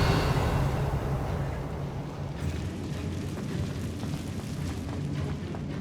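In the Hogwarts Legacy video game, a Confringo fire spell goes off with a heavy rumbling explosion. A deep, roaring blast fills the clip and then slowly fades with a crackling tail, and no one speaks over it.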